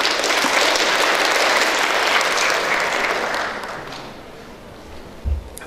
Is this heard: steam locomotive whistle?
no